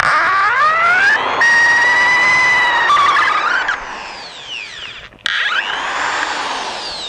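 A budget Practyl cordless screwdriver backs out a long 125 mm screw, its motor whining loud and steady with rising and falling pitch, pausing briefly before spinning up again.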